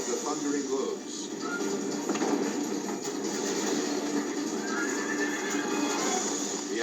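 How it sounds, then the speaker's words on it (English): A dense rumble of galloping horses with thudding hooves and a whinny, steady and loud, with a narrating voice running over it. "launching him out of the saddle and into the deadly path of the thundering hooves"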